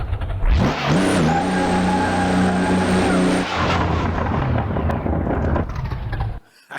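In the Assetto Corsa racing game, a car engine revs hard: a sharp rise to a loud sustained roar for a few seconds, then a falling, sputtering tail as the throttle is released.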